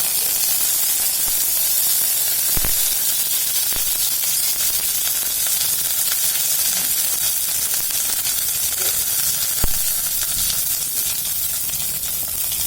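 Mustard seeds and curry leaves sizzle in coconut oil for a brinjal palya, a steady close hiss with faint crackle and a couple of sharp pops, no voices.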